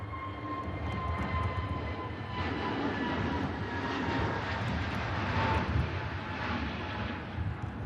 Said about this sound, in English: A321neo back to Amsterdam